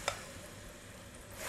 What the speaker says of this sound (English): Now I'm going to place this right back into the oil that I used to fry